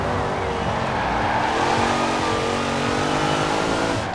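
A 2014 Jeep Grand Cherokee SRT set up for rally off-road driving in Forza Horizon 4 roars at steady high revs, close and loud, with tire scrabble underneath and no talking.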